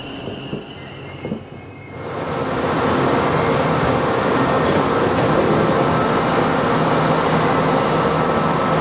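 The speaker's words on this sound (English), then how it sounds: "You join me here at Birmingham New Street station. It is very loud here" A loud, echoing Birmingham New Street station: a train rumbles and roars through with squealing wheels and a hissing hum filling the space.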